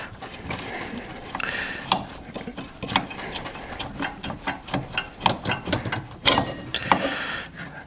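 Metallic clinks, scrapes and small rattles of an ATV brake caliper being removed from its mount during brake pad replacement, an irregular series of close knocks and clatter with no talk.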